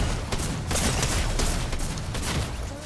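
Gunfire from a weapon in the video game Fortnite, a rough cluster of repeated shots and bursts at moderate loudness with no clear speech.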